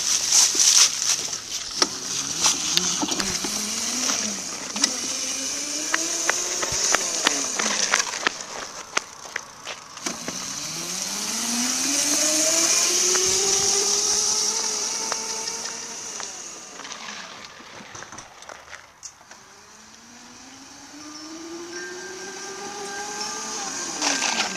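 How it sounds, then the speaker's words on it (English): A Razor Pocket Mod electric scooter is ridden at speed, its motor whine sweeping up and down in repeated surges as it accelerates and eases off, with rattles and bumps from the ride close to the microphone. "I will be showing y'all how fast it goes by riding it"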